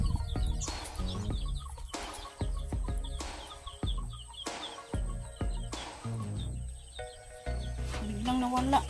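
Chickens cluck in a rainy, muddy rural yard in the Philippines, a run of loud, repeated, close calls with sharp knocks in between and occasional higher cries near the end.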